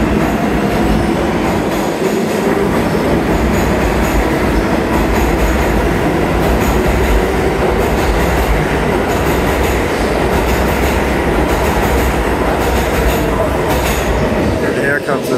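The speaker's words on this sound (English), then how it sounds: "here comes the third train in view, just entering the station" A metro train on a CBTC-signalled line pulls into a station, a loud continuous rumble of wheels and cars with rhythmic clatter and a squeal of wheels building toward the end.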